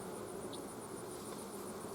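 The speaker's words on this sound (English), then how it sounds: "See the bees flying on my face?" Honey bees buzz close around a beekeeper's face at an open hive, a steady droning hum with a faint higher whine on top, continuous and near.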